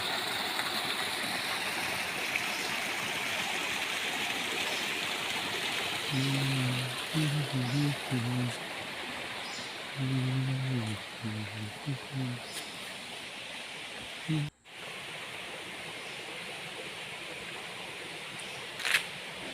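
Steady rushing water of the Ashok Jhara waterfall fills the whole clip, with a few short voices and tones breaking through midway.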